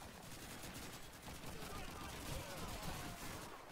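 Dense, continuous battlefield noise in the video game Call of Duty 2. Rapid gunfire and fusillades run throughout at a steady level, and a voice talks over the shooting.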